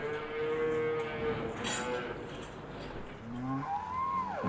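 Cattle lowing on a farm, a couple of drawn-out moos, the last rising then falling, over a steady low background rumble with no talk.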